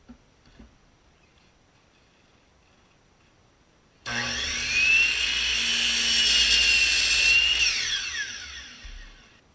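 Wood boards for a toboggan, including 1x3 and 1x2 stock cut to 14 1/4 inch lengths, go through a saw. After about four seconds of near quiet, a loud, close, sustained cutting whine and rasp holds steady, then fades at the end.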